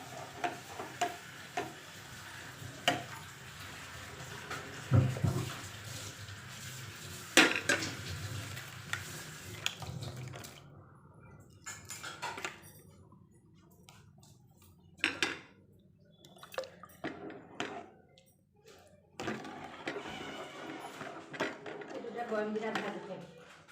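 A spoon scrapes and clinks around the inside of a cooking pot in short bursts while stirring in sugar, with gaps of quiet between the stirring strokes.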